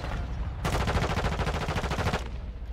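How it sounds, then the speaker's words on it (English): Rapid automatic gunfire from a Call of Duty Modern Warfare 2 (2022) Invasion match, a loud, steady burst of evenly spaced shots lasting about a second and a half over low background game noise. "I saw the sniper shot go"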